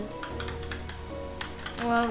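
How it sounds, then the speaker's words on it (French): Rapid keyboard typing on a computer while modding Spider-Man, a steady run of close, soft key clicks for about two seconds, with a brief louder flurry near the end. "on entend bien le bruit de mon clavier"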